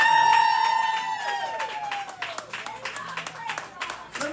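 Crowd of opposing rabble-rousers at a campaign event at Cabbyshack in Plymouth, heard as a loud burst of cheering and whooping with scattered claps, falling back to a rowdy murmur of voices and shouts.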